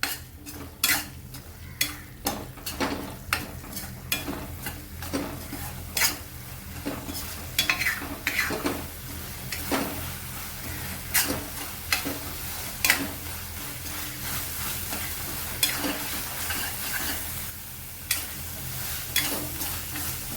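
Masala for paneer bhaji sizzling steadily in a pan while a spoon stirs and scrapes it, sharp utensil clicks recurring throughout over a continuous frying hiss, close and alone without talk.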